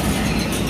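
LRT train at UN Station in Manila, heard as a steady, loud rumble of rolling rail cars with broadband mechanical noise and no clear rhythm, continuous through a brief moment.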